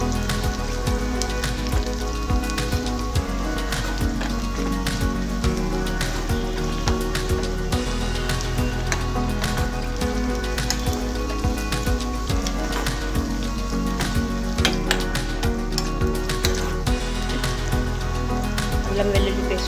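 Chopped onions and ginger garlic paste frying in hot oil, a dense continuous crackling sizzle with sharp pops, loud and close throughout.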